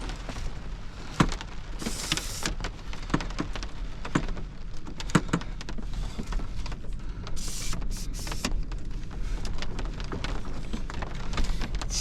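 Rain from a thunderstorm patters and drums on a truck camper, a continuous hiss broken by sharp scattered drips and taps, with occasional louder bursts of gusting noise, close and moderately loud, with no talking.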